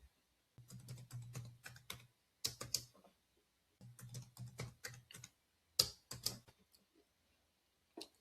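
Close, quiet clicking of a computer keyboard as a new password is typed, in several short bursts of rapid keystrokes separated by brief pauses.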